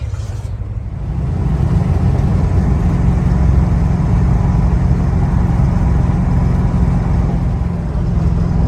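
A Plymouth car engine idling in neutral while stopped, a steady loud low rumble that thickens after the first second and holds evenly throughout, with no voices.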